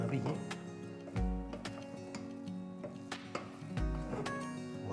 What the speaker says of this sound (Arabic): بنزيد عليها ملعقة كبيرة من الزبدة، بنحرك على أقل من مهلنا لحتى ما نفقع